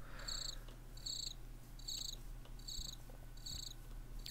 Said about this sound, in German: Ich kenne jemanden, der sich über dieses Zirpen sehr freut.